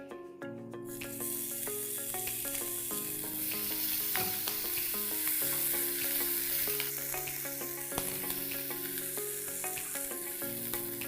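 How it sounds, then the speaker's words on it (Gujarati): Green chillies and cumin seeds fry in hot oil for a tandoori paneer wrap, giving a loud, steady sizzle with scattered crackles and pops and a few stirring clinks throughout. "જીરું તતરી જાય એટલે એમાં લીલા મરચાં ઉમેરીશું."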